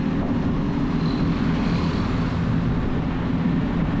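A modified Honda CB150X Adventure Edition motorcycle on a test ride gives off a steady, even engine drone with broad road and wind noise, holding constant and fairly loud throughout.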